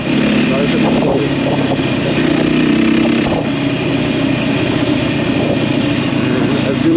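A Beta 390 RR off-road motorcycle engine drones steadily while riding, with a constant mid-pitched hum and slight rises in revs, while a person talks over it throughout.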